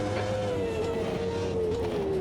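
A classic Formula One car in the racing game Automobilista 2 holds a steady high-pitched engine whine, with traction control making a fluttering, stuttering buzz underneath, continuous and fairly loud.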